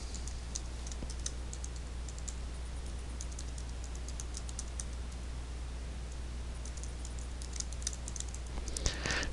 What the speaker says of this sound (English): I just need to type in the right URL